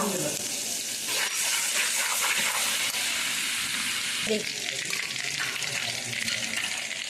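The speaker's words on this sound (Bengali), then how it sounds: "যেটুকু তেল আছে ওইটুকুইতেই আমি রান্নাটা করব এখানে রসুন কুচি আদা কুচি" Chopped garlic and ginger frying in a little oil for chilli chicken, giving a steady, close sizzle with faint stirring scrapes throughout.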